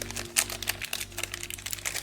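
Crinkling plastic wrapping torn from Disney Lorcana booster packs, a rapid stream of close, dry crackles and rustles lasting about two seconds, with no speech.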